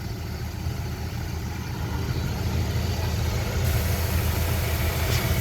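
A 1973 Dodge D100 pickup with a 318 V8 idling steadily nearby, a continuous low rumbling drone that grows slightly louder midway, with no talking.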